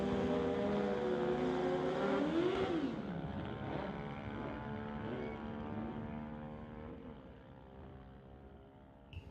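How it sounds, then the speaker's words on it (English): A drag racing motorcycle launches off the line at a street-legal drag strip, a loud engine roar that rises in pitch and then fades as the bike pulls away into the distance. "Nice wheelie off the line for Gary."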